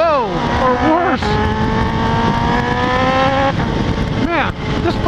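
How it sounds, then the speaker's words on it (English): A Kawasaki H2 motorcycle on a road ride, its high-pitched engine climbing through several rising revs as it accelerates hard with wheelspin, loud and continuous with a voice talking over parts of it. "this bike likes to spin the tires, but that's to be expected with all the horsepower"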